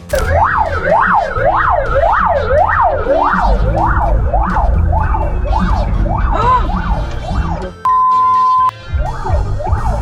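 A wailing ambulance siren on a vehicle in Komsomolsk-on-Amur, Russia, cycling steadily up and down in loud, close sweeps for the full stretch, briefly switching to a flat held tone before the wail resumes.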